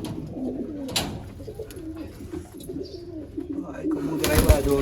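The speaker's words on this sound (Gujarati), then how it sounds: "કબૂતર આવ્યા જોરદાર નંબર." Punjabi Malwai pigeons coo softly in low, rolling murmurs, with a sharper flutter near the start and a louder rustle at the end, while a person talks nearby.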